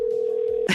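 A single telephone ringback tone on a call, a steady pure electronic tone for under a second that cuts off into a short burst of noise, alone with no talk.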